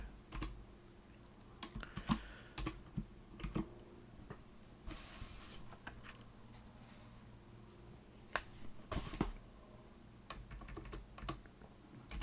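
Quiet, close computer keyboard typing comes in quick irregular bursts with short pauses, as an email address and password are entered to sign in.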